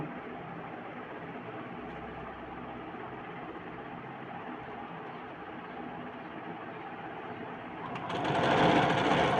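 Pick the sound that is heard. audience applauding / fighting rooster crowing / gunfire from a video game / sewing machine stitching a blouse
sewing machine stitching a blouse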